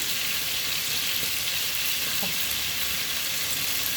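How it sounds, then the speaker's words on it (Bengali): Onion and garlic fry in hot oil for a bottle gourd dish, giving a continuous, loud, close-up sizzle with no pauses. "লাউ রান্না করার জন্য আমি পেঁয়াজ আর রসুন দিয়ে দিলাম।"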